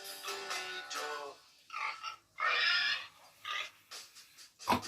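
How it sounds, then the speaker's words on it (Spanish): Pig grunting and oinking in short, rough bursts separated by brief pauses, close and fairly clear, with a few snorting breaths mixed in. "Hace así el puerco"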